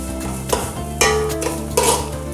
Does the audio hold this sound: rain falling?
no